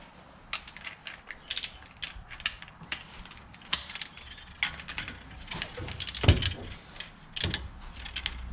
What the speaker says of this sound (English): 200 Newton meters on the torque wrench.